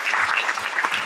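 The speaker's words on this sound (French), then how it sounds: "On peut l'applaudir très fort" A short, loud burst of audience applause at a plenary event, dense clapping heard close up with no voices.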